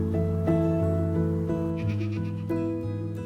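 Goats bleating on scrubby goat country, several overlapping wavering calls one after another, close and clear with no talk.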